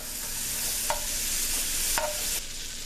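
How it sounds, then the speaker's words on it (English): Steady sizzling and crackling of butter in a hot frying pan over medium heat, with a couple of faint scraping clicks, no voices. "we're going to go ahead and throw some butter in there"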